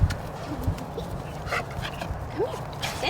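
A shelter puppy whimpers and yips softly in short scattered bursts at close range, with faint background noise and little talk.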